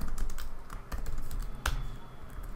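Computer keyboard keys clatter in a quick, steady stream of clicks as Java code is typed, close and moderately loud, with one sharper keystroke near the end and no voices.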